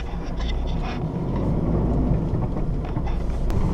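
Thunder rumbles low and continuous during a nighttime rainstorm at a farm during canola harvest, with rain hissing throughout, heard from inside or near a car.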